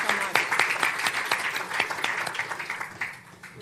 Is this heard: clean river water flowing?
no